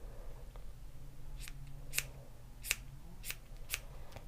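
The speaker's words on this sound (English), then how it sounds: "you can just trim them with your scissors" Scissors trim a fluffy yarn pom-pom, five or six crisp snips at an uneven pace, close and quiet over a low background hum.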